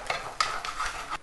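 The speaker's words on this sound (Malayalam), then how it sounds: "നമ്മുടെ ഇഞ്ചി നന്നായിട്ട് വറുത്തെടുക്കണം കേട്ടോ. നന്നായിട്ട് ഇളക്കി കൊടുക്കണം" Ginger frying in a pan while being stirred, with scraping strokes and soft sizzling at close range, no talk.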